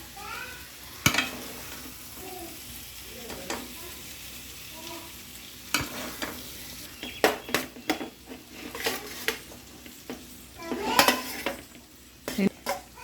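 Gojju being added to a pan of hot rice for capsicum vangibath, with soft sizzling, scattered metal spoon scrapes and clinks against the pan as it is stirred, a voice faintly in the background.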